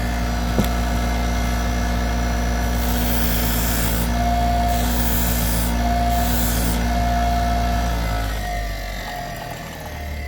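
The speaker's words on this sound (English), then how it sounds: "When you deburr, you can use a regular buffer." Continuous motorized hum of a regular buffer deburring a blender blade, with rasping, grinding bursts of the metal edge against the wheel in the middle before the motor winds down near the end.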